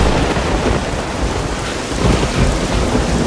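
Rain and thunder in a video game alien-siege storm, dense steady downpour with low rumbling thunder rolling continuously underneath, loud and close, no voices.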